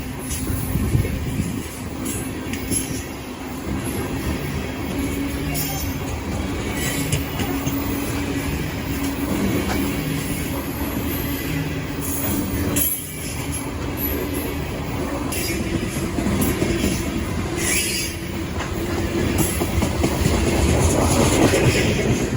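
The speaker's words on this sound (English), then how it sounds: "the train swings around the slight curve" A BNSF coal train with a rear DPU rolls steadily past around a slight curve on the Hinckley Sub, a loud continuous rumble of wagons with wheel squeal and a rhythmic clickety-clack that holds for the whole pass.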